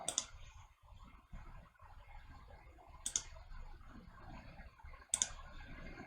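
Computer keyboard keys pressed while a man works in circuit board design software, three sharp, isolated clicks spaced a few seconds apart against quiet background hum.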